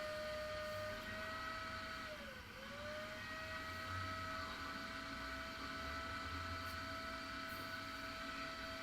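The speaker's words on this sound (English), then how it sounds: "This was the wet vac's last job." Wet vac sucking out a drain clogged with fat and gravel, a loud, constant motor whine with a brief dip in pitch partway through as the load changes, with no talking.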